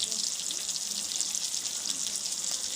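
Onions and curry leaves frying lightly in oil for onion rasam, a steady crackling sizzle heard close and evenly throughout with no pauses.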